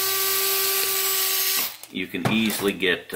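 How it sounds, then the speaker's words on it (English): A small power drill turning a 1/16 inch bit while building a Polar Lights USS Discovery NCC 1031 model kit, a steady high whine running close for about a second and a half before stopping, followed by someone speaking. "And drill it. And typically I've found that this is a 1/16 inch drill bit."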